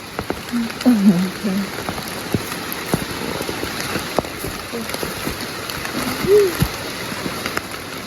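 Rain falls steadily with scattered drops pattering on a surface, a faint low voice murmuring briefly in the background.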